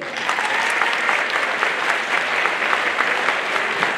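Audience at a holiday concert clapping loudly and continuously, a dense, even wash of many hands close by with no break.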